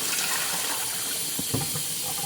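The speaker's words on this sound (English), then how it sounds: "Start a cold stream of water." Cold water runs steadily from a kitchen tap over a pot of boiled eggs, a continuous close hiss and splash with a few louder gurgles midway.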